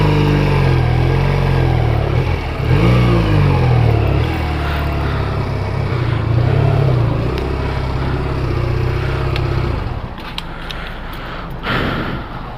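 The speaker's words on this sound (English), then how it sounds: "I'm gonna ride up on this because I'm awesome like this." Motorcycle engine in Las Vegas traffic, a loud, steady low drone with rising and falling revs as the bike rides up, the rumble easing toward the end.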